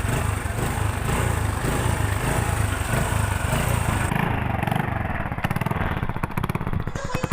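A motorcycle engine with a repaired, welded exhaust runs loud and close, a steady throaty rumble that turns into a rapid, even putter toward the end.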